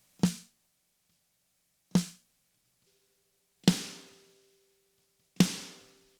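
Snare drum recorded on its own without an added sample: four separate close hits at an even, slow pace, the later two ringing out longer than the first two.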